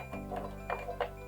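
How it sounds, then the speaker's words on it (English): An electrosurgical unit sounds a faint repeating beep alarm after being disconnected, soft pulses over a steady mechanical hum. "You can hear a beeping noise in the background telling me that the machine is unhappy."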